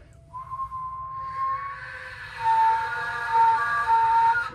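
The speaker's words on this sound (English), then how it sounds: "you start with a whistle, and then you try to find where this needs to be in order for that whistle to go half in, half out" A ney flute blown for its whistle tone gives a thin, steady pitched note held for a couple of seconds, then a brighter, stronger held tone. It is close and alone over a low background hum.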